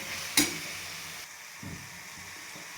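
Tomatoes with turmeric are sautéed in a pan: a soft hiss of frying with one sharp utensil clack early on, followed by quieter stirring scrapes.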